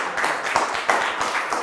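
Audience applause from a small crowd, a brief patter of many hands clapping at close range, steady and fairly loud with no talking over it.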